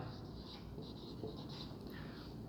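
A pen writes on paper in short continuous scratching strokes during an English grammar lesson, soft and close over a low steady background hum.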